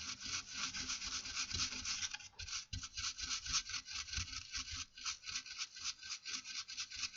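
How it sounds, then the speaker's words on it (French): A brush scrubs a circuit board from a Bose car amplifier out of an Audi, giving fast, steady, close scratchy rubbing strokes in a continuous rhythm with no talking. "Donc je vais nettoyer pour qu'on voit bien ce qui se passe là."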